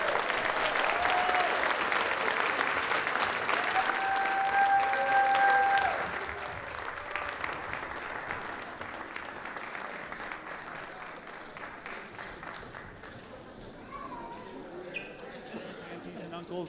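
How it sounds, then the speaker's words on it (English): Sustained crowd applause at a Sealaska Heritage Celebration toddler regalia review, loud at first and then tapering gradually, with faint birdsong and murmuring voices mixed in. "let's give our toddlers another round of applause"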